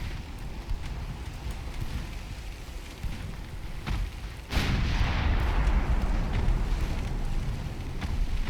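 Warship guns and torpedoes in the naval game Ultimate Admiral Dreadnoughts produce a low rumbling bombardment with a loud boom near the midpoint, followed by a heavier sustained roar; no speech.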